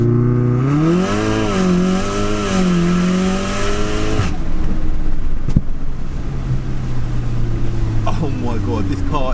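A hard drag launch pitting a 700 bhp Audi RS6 against a 560 bhp methanol-injected Golf R: a loud, close engine climbs through rising gear-by-gear sweeps, then gives way to wind and road roar, with a voice speaking near the end.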